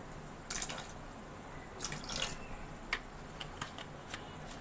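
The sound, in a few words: pouring kewra water into cooking pot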